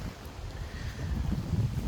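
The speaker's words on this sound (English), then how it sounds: "It's suddenly got windy, so I hope you can hear me." Steady low wind rumble buffeting the microphone, growing slightly stronger toward the end, with no voices.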